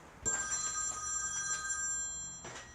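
A personal cell phone rings in a law office, a repeating electronic ringtone pattern with bright sustained tones, moderately loud and alone without talk.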